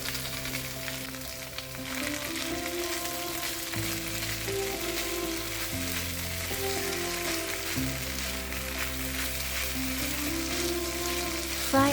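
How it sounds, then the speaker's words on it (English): Chicken, cooked rice and vegetables fry in a pan with a steady, close sizzle throughout, while faint stirring and music-like tones sit underneath. "Fry everything a little."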